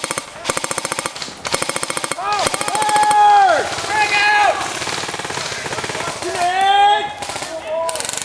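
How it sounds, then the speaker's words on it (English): Echo1 SOB1 MP5 airsoft electric rifles fire loud, rapid full-auto bursts outdoors during a game, with excited shouting voices in between and over the volleys. "Give me cover fire! Hopefully this stays cover fire!"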